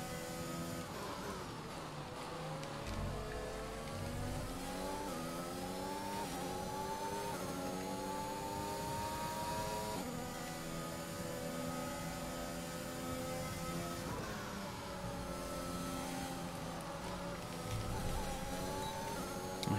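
Formula 1 race car engine in the F1 2021 video game, held in sixth gear at a high, steady whine that rises and falls in long sweeping pitch bends, close and continuous with no talk.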